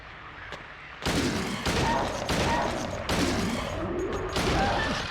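Gunfire in the horror video game Silent Hill 2, a run of heavy, booming shots and impacts that start abruptly and repeat in close bursts, loud and near, with no talking over them.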